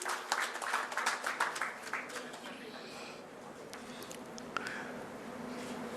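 Applause from a seated audience at a Puducherry health event welcoming the Honorable Governor, dense broadband clapping that is strongest in the first half and then thins to a scattered patter under room noise.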